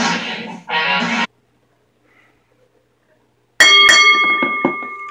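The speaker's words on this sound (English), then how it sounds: "The match began. The bell has rang." Wrestling ring bell rung to start a no-holds-barred match at an ECW event: a loud, ringing burst of several quick metallic strikes with sustained tones, following a moment of crowd or commentary noise and a short silence.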